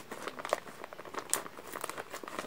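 Plastic packaging being cut close up, giving a soft, continuous crinkling rustle with small crisp snaps throughout, and no voices.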